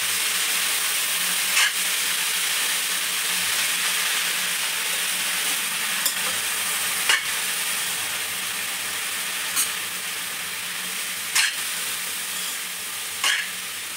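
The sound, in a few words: stirring vegetables frying in a pan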